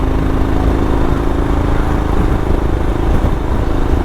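A Royal Enfield Himalayan motorcycle engine drones steadily at about 3,000 revs in sixth gear while climbing a hill, a loud, constant hum with slight fluctuations, heard close up without speech.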